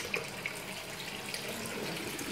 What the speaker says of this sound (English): So first of all, I've let the tap run.